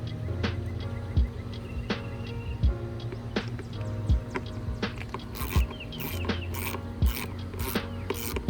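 A ratchet tightens windshield mounting bolts on a Harley-Davidson Street Glide fitted with a Memphis Shades windshield. Rapid close clicking of the pawl repeats in short strokes, with a few sharper knocks and brief louder bursts near the end.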